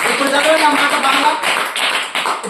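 Congregation in a church service clapping loudly on cue, a brief burst of dense applause mixed with voices.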